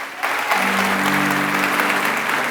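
Church congregation breaking into applause during a sermon, a sudden full burst of clapping that swells and holds steady, with a sustained low tone under it.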